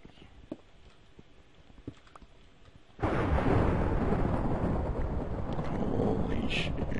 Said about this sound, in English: That lightning, though.